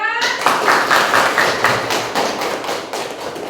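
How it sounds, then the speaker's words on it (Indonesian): A classroom full of students claps together, a dense, steady round of applause that carries on throughout. "tepuk tangan dulu buat kelompok 2"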